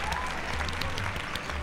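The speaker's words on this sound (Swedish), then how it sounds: "Jag lägger in en ljudapplådseffekt." Studio-style applause sound effect dubbed in during an edit: a dense, steady burst of many hands clapping at even loudness throughout, with no talking.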